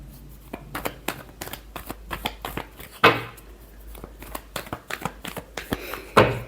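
Tarot cards are shuffled in a series of quick, soft riffling bursts and taps, close and fairly quiet, with two louder riffles standing out.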